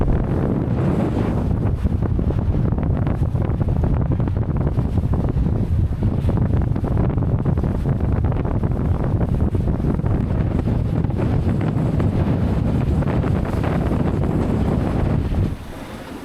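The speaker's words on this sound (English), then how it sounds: "There's wind." Strong wind buffets the microphone in a constant loud roar while sailing near Noumea, with water rushing beneath, cutting out abruptly near the end.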